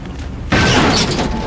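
A sudden loud explosion in the video game Black Mesa bursts in after a low rumbling lead-in, then sustains as a dense roaring blast with no talking.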